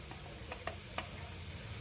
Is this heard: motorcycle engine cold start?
no